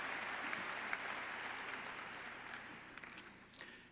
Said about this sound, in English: Please join me in a round of applause for the platform party.